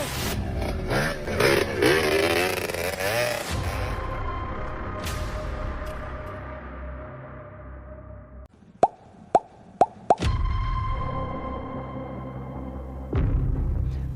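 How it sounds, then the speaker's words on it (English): A Yamaha DT 175 two-stroke motorcycle engine revs and then fades. Its buzzing exhaust drops away into a pause broken by four sharp pops, then picks up again into a steady idle. "this robust race-proven two-stroke, rigid chrome moly frame machine"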